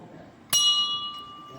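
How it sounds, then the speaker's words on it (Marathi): A single bright temple bell strike rings out and lingers with a sustained metallic hum, while faint background murmur continues. "पण घंटी वाजवलो"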